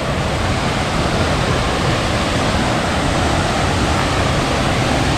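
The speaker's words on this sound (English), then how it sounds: "That's a cool waterfall." Waterfall at Cold Brook Falls roaring close by, a dense and steady wash of falling water that fills everything evenly and stays loud without a break.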